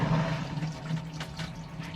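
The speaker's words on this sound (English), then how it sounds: "we're dumping water in here, getting ready to leak check the water system" Water being poured into a race car's water system ahead of a leak check, a gurgling, splashing fill with a low hum running underneath, close by and varying in intensity over a couple of seconds, with no talk.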